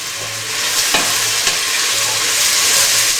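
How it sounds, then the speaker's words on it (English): Onions and peppers fry in a pot for cabbage soup, a steady loud sizzle with spoon scrapes and stirring knocks against the pot. "Going to give this a stir."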